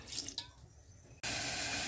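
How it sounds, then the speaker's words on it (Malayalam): After a few faint clinks, water suddenly starts pouring and runs in a steady, close gush until the end, poured over ground ingredients to melt jaggery for halwa. "നമുക്ക് ശകലം വെള്ളം ഒഴിച്ചതൊന്ന്"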